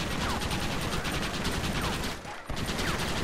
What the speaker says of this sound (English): You have some, but we have a Gatling gun.